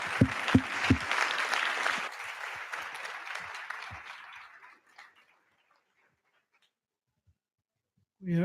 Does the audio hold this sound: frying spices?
no